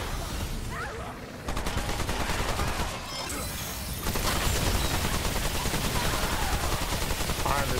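Rapid automatic gunfire from Remnant 2 rattles in dense, continuous bursts, breaking off briefly before resuming louder and heavier.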